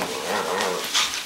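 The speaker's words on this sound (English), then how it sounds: "The doggies are playing." Dogs playing together, with close, rough growls and a brief yip or whimper in a short burst of continuous canine noise.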